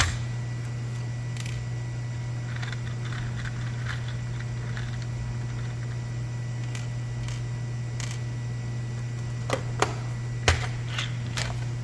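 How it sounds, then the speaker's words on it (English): Wood screws shifting in a small Dollar Tree plastic organizer box give sparse, light metallic clicks and ticks over a steady low hum, with a few sharper taps near the end. "we're going to try first just some wood screws from my little Dollar Tree organizer box"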